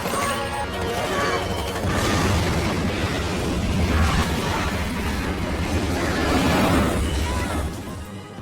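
A sustained roaring blast in a Starship Troopers battle scene as a soldier blows up the alien bugs, a dense rumbling explosion that stays loud across the whole stretch with crackling debris.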